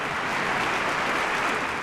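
A crowd cheers and claps dense, unbroken applause as a train arrives, a loud, even roar of hands with no gaps across the short stretch.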